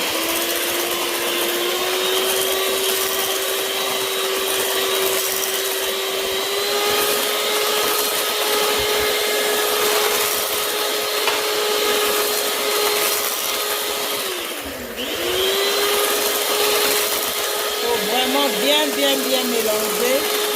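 Electric mixer whipping tiramisu cream with sugar and eggs, a steady loud motor whir with a short dip midway as the beaters shift, then resuming; no speech over it.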